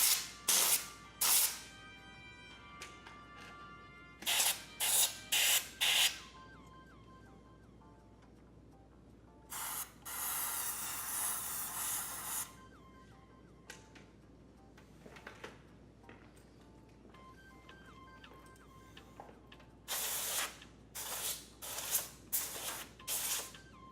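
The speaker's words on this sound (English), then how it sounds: "Using the air duster, blow out the fans." Short bursts of compressed air from an air duster blow out the fans of a PRM 45 projector during a lamp replacement. Several sharp hissing blasts come up close, with one longer spray near the middle and quiet gaps between.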